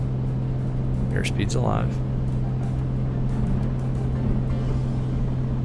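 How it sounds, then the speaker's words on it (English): Piper Comanche single-engine propeller aircraft in Microsoft Flight Simulator on its takeoff roll, a steady loud engine drone that runs throughout while someone talks briefly over it. "Listen to that engine."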